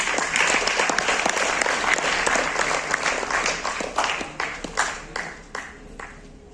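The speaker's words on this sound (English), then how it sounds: "Huge round of applause." A large audience at a campus Q&A session breaks into a huge round of applause, dense and sustained at first, then thinning into scattered individual claps as it dies away.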